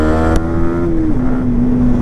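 Motorcycle engine pulling away at the start of a ride, a steady close engine drone with a rising then settling tone and one brief click early on.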